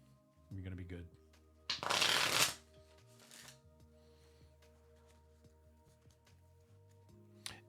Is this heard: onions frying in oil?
no